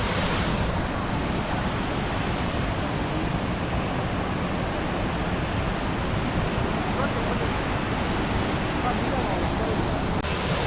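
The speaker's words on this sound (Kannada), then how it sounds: "ವಾಟರ್ ಫ್ಲೋ ತುಂಬ ಚೆನ್ನಾಗಿದೆ ಈ ಸರಿ" Heavy monsoon water pours down a waterfall in Coorg, Madikeri, producing a dense, unbroken roar of rushing water that stays loud and steady throughout, with some wind buffeting on the microphone.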